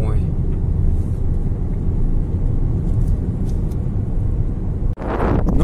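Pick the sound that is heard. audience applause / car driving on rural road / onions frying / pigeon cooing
car driving on rural road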